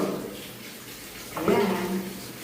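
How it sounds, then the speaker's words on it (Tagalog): Running water splashes and pours while a chihuahua is bathed, starting low and swelling into a louder close gush partway through, with a voice faintly present underneath. "Si Drake na ang susunod na naliligo"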